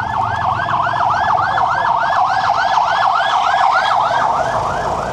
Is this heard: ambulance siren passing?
yes